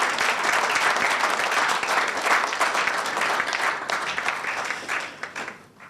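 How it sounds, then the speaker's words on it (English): Audience applause at the live launch of Ghana's National Science and Maths Quiz 2021 championship: dense, steady clapping from a large crowd that holds for several seconds, then thins and fades near the end. "let's give her a round of applause"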